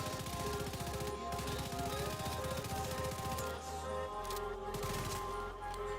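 Assault rifle fire in The Division 2 crackles in rapid automatic bursts, dense and continuous, set against a steady bed of game ambience with no talking.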